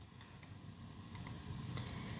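Scissors snip through foil on a handmade greeting card, giving a few quiet, crisp clicks and crinkles spaced irregularly and close by, with no talking.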